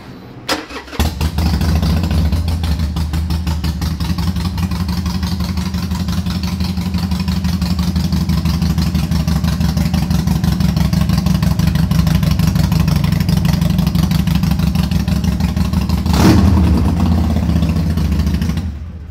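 A 2011 Harley-Davidson Sportster XL883L fires up and settles into a loud, lumpy idle with rapid, uneven pulses, then blips the throttle briefly near the end before cutting off.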